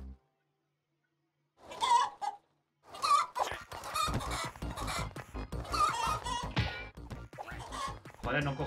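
Cartoon chickens cluck in bursts in the party game Party Panic, mixed with game effects and loud, busy play sounds after a short silent gap.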